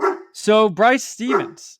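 A pet dog barks several times in short, loud bursts close by, its yips mixed in with someone talking over it indoors.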